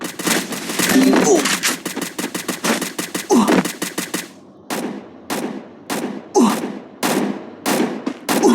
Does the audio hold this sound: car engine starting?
no